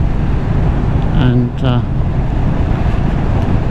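A Royal Enfield Meteor 350 motorcycle engine runs steadily on the road, a continuous low drone mixed with wind and road rush, with a voice briefly speaking over it.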